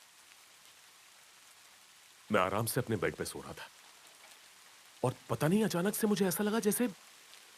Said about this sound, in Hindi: खिड़की के बाहर बारिश हो रही थी